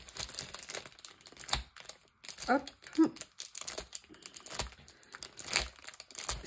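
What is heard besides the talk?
tearing open taped plastic packaging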